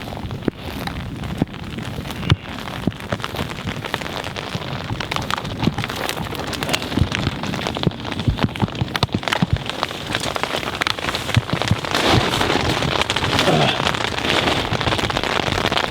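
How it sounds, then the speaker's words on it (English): Rain falling on a campsite during a summer storm, a dense, steady patter of drops striking nearby surfaces, growing heavier toward the end, with wind mixed in. "yeah, here comes the rain."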